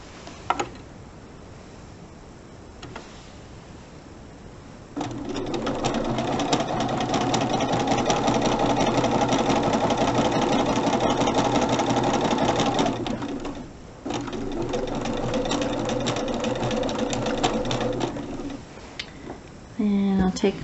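A sewing machine stitches a seam through fabric in two steady runs of fast, whirring stitching with a short pause between them, close and clear after quiet handling at the start.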